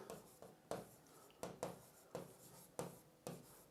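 Marker or chalk writing on a board during a surveying lecture makes a series of short scratchy strokes in an uneven rhythm, close and fairly quiet, with no talk over it.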